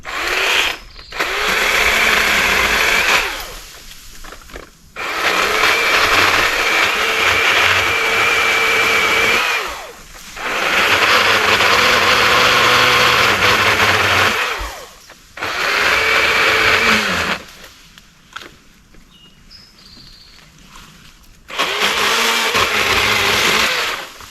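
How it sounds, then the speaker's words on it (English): A Milwaukee electric pole saw cuts branches on a Christmas tree farm, its high whine coming in several loud bursts of a few seconds each, separated by short quiet pauses. "No doubt the pole saw is the tool for that job. This Milwaukee electric one is awesome."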